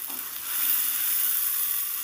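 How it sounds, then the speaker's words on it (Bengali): Spice paste (masala) frying in oil, a steady close hissing sizzle that swells slightly after the first half second and holds evenly. "এবার সুন্দর করে মশলাটাকে ভাজতে হবে"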